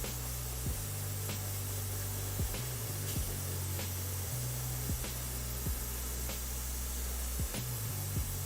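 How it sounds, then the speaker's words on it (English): An airbrush blows a steady, soft hiss of air to dry miniature paint, with faint clicks at intervals and no voices. "Using the airbrush to dry here."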